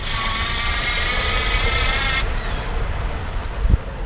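A Gocycle G2 electric bike's motor whines steadily while riding, a close, constant high-pitched drone over road and wind rumble that cuts off partway, leaving rolling noise and a brief knock at the end.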